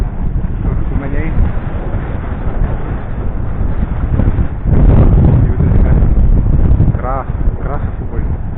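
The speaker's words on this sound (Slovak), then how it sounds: "A fúka, strašne fúka." Strong wind buffets the microphone on a fishing boat out on choppy water, a loud continuous roar that swells midway, with someone speaking over it.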